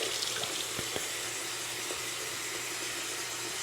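A sink basin fills with hot water from the tap in a steady, even rush that holds at a moderate level throughout, with no voices over it.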